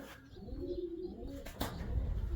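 Racing pigeons resting in a sunny loft give soft, low cooing throughout, close by, with a brief rustle or flap near the end.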